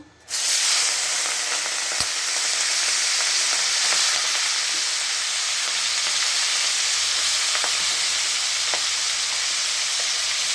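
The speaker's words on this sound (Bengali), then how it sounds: "তেল গরম হয়ে গেছে, চিংড়ি মাছগুলো দিয়ে দেবো।" Small shrimp fry in hot oil, a loud, close, unbroken sizzle that swells in right at the start and holds steady, with occasional faint clicks and no speech.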